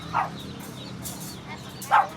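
A chihuahua at a pet market gives two short, sharp yips about two seconds apart over a low murmur of background noise.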